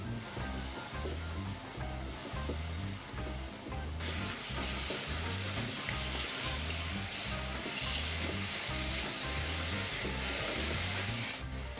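Yogurt is added to cooked masala in a hot pan for bhindi masala, and the sizzle jumps louder partway through, then holds as a steady frying hiss under rhythmic stirring scrapes.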